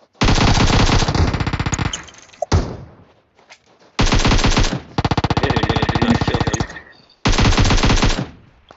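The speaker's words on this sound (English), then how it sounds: "Gunshots." Long bursts of rapid automatic gunfire in PUBG Mobile, loud and close, separated by short pauses and a few scattered single shots.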